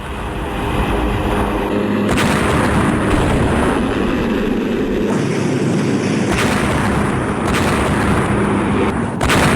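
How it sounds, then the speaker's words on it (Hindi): Heavy booming explosions at an airbase, a rumbling roar that is loud and continuous, with sharp percussive hits punctuating the dense low-frequency noise. "ये देखिए, धमाके की आवाज आप सुनाई दे रही है।"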